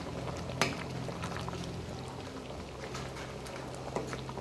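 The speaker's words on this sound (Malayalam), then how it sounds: "തേങ്ങ അരച്ചത് ചേർത്തിട്ട് കറി തിളക്കുന്നുണ്ട്." Prawn curry with ground coconut simmering in a pot in a Kannur-style kitchen, a steady close bubbling and popping hiss throughout with a couple of sharper clinks, no talking.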